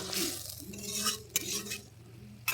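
Fried raw-banana koftas are stirred into a vegetarian curry in a pot with a spoon, giving soft wet scraping swirls, a light sizzle, and two sharp metallic clinks against the rim, close up.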